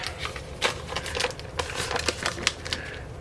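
Crinkly paper wrapper peeled off a stick of butter in a kitchen, a close run of quick crackling rustles and sharp little crinkles over about three seconds, with no talking.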